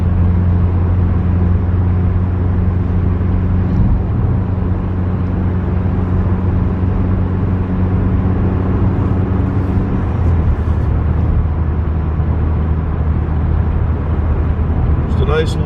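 A car cruising on a road late at night, heard from inside as a continuous, loud, even rumble of engine and tires with a low hum that shifts slightly partway through.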